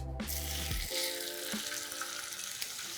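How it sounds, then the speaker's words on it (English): A continuous hiss of pork pieces sizzling in hot oil fills the clip, bright and close, with faint tonal hum beneath and no talking. "And now we go in for the sizzle."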